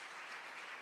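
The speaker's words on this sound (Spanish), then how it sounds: "Fuerte ese aplauso al Señor." Congregation applause at an evangelical church service during a Spanish-language sermon: a steady, even wash of many hands clapping, quiet and slightly distant, with no voices over it.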